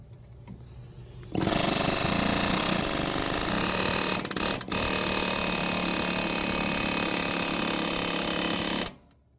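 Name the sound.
air hammer knocking rust loose on tractor clutch bolt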